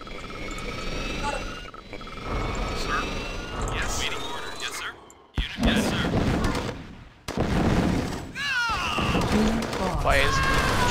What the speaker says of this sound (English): Why is it shooting?